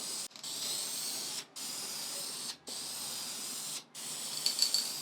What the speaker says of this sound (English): I don't know what's up with my spray can, but there.